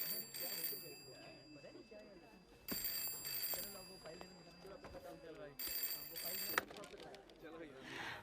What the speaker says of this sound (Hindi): फोन बज रहा है तुम्हारा।